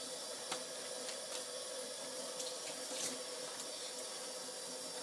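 A kitchen tap runs steadily while fingers are rinsed during rye bread baking, a constant hissing splash of water with small clinks and splatters scattered through it.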